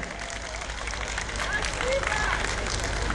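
Applause from a concert audience at a Kazan city philharmonic performance, a steady broadband wash of clapping filling the hall for a few seconds with faint crowd murmur underneath.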